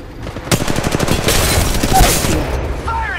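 Gunfire in a shooter video game: a rapid, loud burst of repeated shots rattling for about two seconds amid a dense barrage, with game voices speaking over it.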